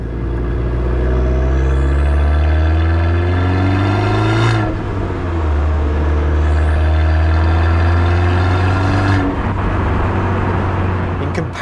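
Abarth 595 Scorpioneoro hot hatch engine and exhaust droning loud and close, a steady rumble rising through revs, easing briefly around the middle and again near the end before pulling on.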